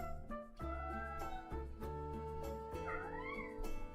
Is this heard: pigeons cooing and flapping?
no